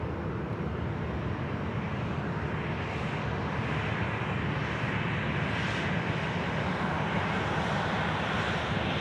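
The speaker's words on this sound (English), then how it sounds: "Qantas 645 has departed 34 left, and we should see it shortly." A Qantas airliner takes off from runway 34 left at Sydney Airport in a full crosswind, producing a steady, broad jet roar that holds at an even level for the whole stretch, heard from a distance.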